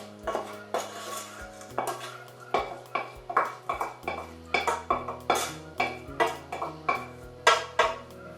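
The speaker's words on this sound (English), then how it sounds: "now we take our sauce that we made and we put that all over our potatoes" Spoon and utensils clink repeatedly against a dish as homemade sauce is spooned over potatoes for a Portuguese tuna salad, making irregular close metallic and ceramic taps over a low background hum.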